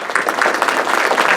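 Brief burst of dense audience applause at a Puerto Rican parades and festivals event, many hands clapping loudly and evenly with no pauses.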